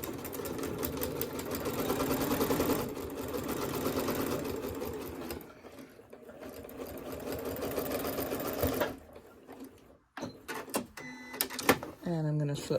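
A sewing machine runs a quarter-inch seam along a quilt block, a steady close whir for about nine seconds that then stops, followed by handling noises and a short voice.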